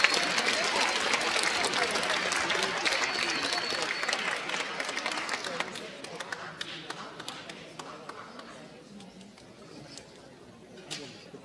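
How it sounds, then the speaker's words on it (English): Audience applause after a high school band concert: dense clapping fills the room, then thins and fades toward the end, with some voices mixed in. "round of applause, thank you."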